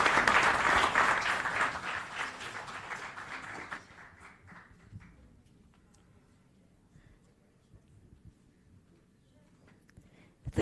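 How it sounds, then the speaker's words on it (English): Audience applause for conference panelists at a summit morning session, loud and dense for about four seconds, then fading to scattered claps and room murmur. "Please loud applause to our great panelists."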